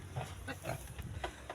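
A sow nursing her piglets on a farm gives short rhythmic grunts in quick succession, close by, over a low background rumble.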